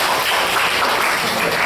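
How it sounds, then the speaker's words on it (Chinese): Warm, sustained audience applause welcoming a teacher to the stage at a teachers' workshop, dense and loud, filling the whole stretch without a break. "请大家以热烈的掌声欢迎陈冠荣老师"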